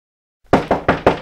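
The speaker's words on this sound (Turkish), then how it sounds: "Oğlum kapı mı çalıyor lan?" Four firm knocks on a door in quick, even succession, close and loud after a moment of silence.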